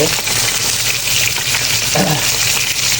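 Fish frying in a pan with steady loud sizzling and crackling oil, a faint clink of a utensil partway through, no speech.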